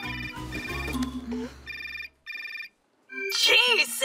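A phone rings in the Miraculous cartoon with two short, bright ringtone bursts separated by a brief pause. Cartoon voices and background sounds come before the ringing, and a voice speaks after it.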